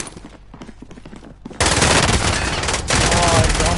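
Bursts of rapid MAC-10 submachine gun fire in a video game, preceded by lighter scattered shots, then a loud continuous rattling stream of automatic fire close by.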